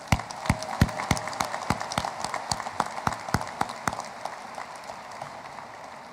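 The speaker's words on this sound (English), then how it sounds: "How about one last round of applause for Braden and John?" Scattered applause from a high school graduation audience, distinct individual claps in a loose rhythm, moderately distant, thinning out toward the end.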